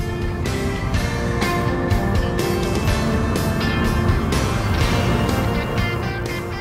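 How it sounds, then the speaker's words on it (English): Steady broadband tire roar and wind rushing over the body of a moving electric car, a continuous even hiss with no engine note, heard from inside the cabin. "The only thing you hear is the sound of tire noise and air passing over the car's body."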